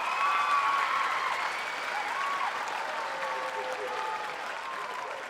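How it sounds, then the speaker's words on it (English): Theater audience applauding a round of applause for school principals and assistant principals at a student musical showcase, steady sustained clapping from a large crowd filling the room at moderate volume. "Can we give them a round of applause?"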